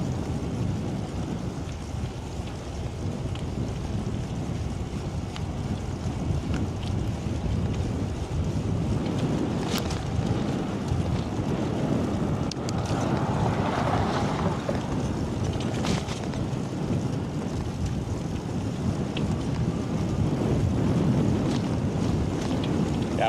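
Steady, strong headwind buffeting the microphone while riding through Phoenix, a continuous rumbling wind roar with occasional gusts and faint road noise beneath, no talking.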